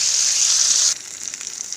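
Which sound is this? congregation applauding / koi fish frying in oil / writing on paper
koi fish frying in oil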